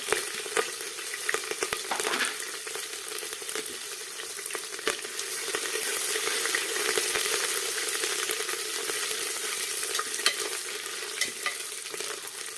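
Cumin, garam masala and curry leaves sizzle steadily in groundnut oil for farali khichdi, a continuous close frying hiss with light stirring clatter throughout and no talking.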